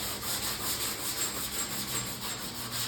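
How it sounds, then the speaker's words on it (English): Sandpaper on a long sanding block rubbing over primer on a car body: steady, close back-and-forth rasping strokes in an even rhythm. "Let the sandpaper do the work"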